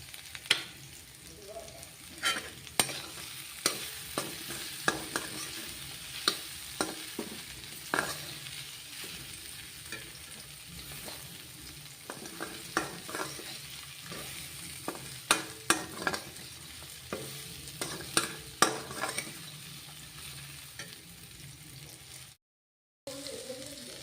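Paneer curry with garam masala frying and sizzling in a pan, with a spoon repeatedly stirring and scraping through it in irregular clinks and scrapes over a steady hiss, close and moderately loud.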